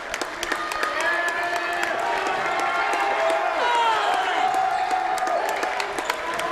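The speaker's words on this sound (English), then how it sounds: "The crowd's into it." Spectators at a boys high school basketball game between the Newton Falls Tigers and the Garfield G-Men cheer and clap in a steady, lively roar, with a commentator talking over the crowd.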